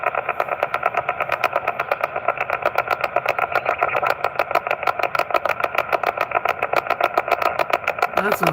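Mechanical engine noise from a truck carried over a ham radio link at a Parks On The Air station, a steady pulsing drone with a rapid rhythmic chatter that persists through the whole stretch, fairly loud and with a slightly echoey, processed character.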